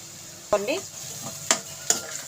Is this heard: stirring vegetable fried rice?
yes